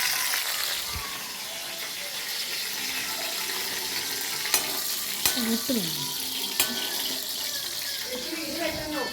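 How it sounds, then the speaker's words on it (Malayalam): Mustard seeds frying in a pan give a continuous sizzle with a scatter of short crackles and pops, close and steady, and stirring sounds join in now and then. "കടുക് വറുത്ത് അതിലോട്ട് ഇട്ടാൽ മതി."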